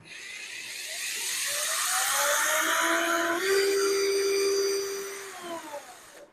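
An Enon cordless drill machine, a 2025 model, spins up to its second speed, a whining motor that ramps up in pitch, holds high and steady, then winds down at the end, with no one speaking.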